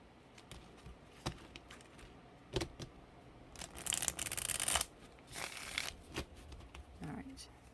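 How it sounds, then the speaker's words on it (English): Tarot and oracle cards are shuffled by hand in a series of soft, crisp riffling and slapping bursts, building to a dense flurry in the middle, close and fairly quiet. "Time to give a shuffle."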